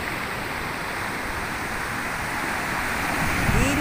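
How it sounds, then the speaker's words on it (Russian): Rough, restless sea near a seafront embankment gives a steady broad roar of surf that swells slightly louder toward the end, with no voices over it. "море сегодня неспокойное."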